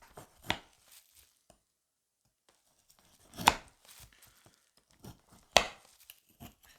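A slicing tool shaves through frozen meat in a few separate hard scraping strokes, close and loud against near silence, with small handling clicks in between.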